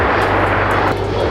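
An airliner's jet engines roar at full takeoff power on runway 25 right at LAX, a loud, broad, steady rush that fills the whole moment without any voices.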